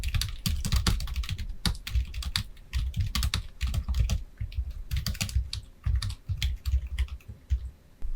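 Rapid, uneven keystrokes on a computer keyboard while text is typed into a document in Hangul word-processing software, a steady clatter of close, crisp taps running throughout with no voices.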